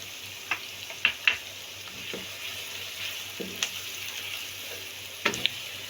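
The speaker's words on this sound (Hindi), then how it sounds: "ताकि मिर्चों की करवाहट खत्म हो ऑयल में फ्राई होकर" Long-cut green chillies fry in oil with a gentle, quiet sizzle, broken by a few sharp spatter pops and light stirring sounds.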